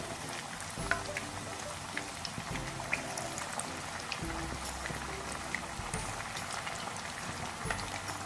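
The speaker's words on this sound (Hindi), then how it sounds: "मीडियम फ्लेम पे फ्राई करेंगे दोनों तरफ से गोल्डन ब्राउन" Pieces of masala chicken fry in hot oil in a pan over a medium flame, giving a steady close sizzle with scattered pops and crackles and no talking.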